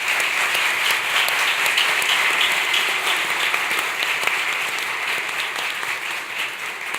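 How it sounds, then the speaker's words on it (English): Audience applauding a panel on intelligent machines and robotics, a dense, steady wash of many hands clapping at close range that holds evenly throughout and eases slightly toward the end. "will you join me in giving a round of applause to this great panel?"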